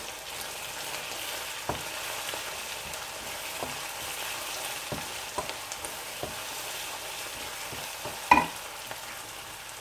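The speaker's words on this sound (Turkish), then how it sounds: "güzelce karıştırıyoruz." Kısır mixture being stirred in a pan on an electric stove, a steady soft sizzle with scattered scrapes and one sharper clink near the end, no voices.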